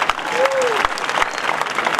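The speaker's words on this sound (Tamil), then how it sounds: "நல்ல கைத்தட்டிட்டு" Audience applause at an outdoor Green Kalam rally on Marina Beach, a steady dense clapping crowd throughout, with a brief whistle-like tone early on.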